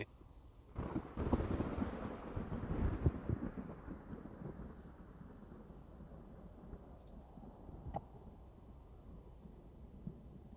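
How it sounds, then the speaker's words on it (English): Wind ambience with distant thunder rumbling on the horizon, a broad low roll swelling early then fading into a steady windy wash, with a faint crack near the end. "You feel the wind around you, and you can hear the thunder crackling on the distant horizon."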